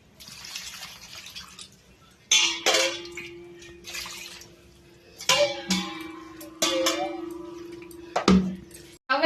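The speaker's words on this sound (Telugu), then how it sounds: "దానికి తగ్గ వాటర్ వేస్తున్నాను." Water is poured into a pressure cooker pot holding tomatoes, onions, green chillies, turmeric and chilli powder. Several separate splashing gushes start abruptly and trail off, with a faint tonal ring from the pot and quiet gaps between them.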